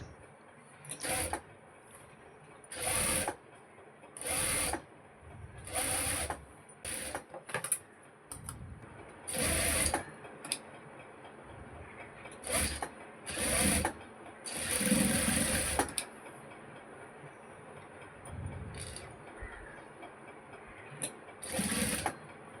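A sewing machine stitches a churidar cross piece in repeated short, loud bursts of rapid mechanical whirring, with brief pauses and faint handling between runs.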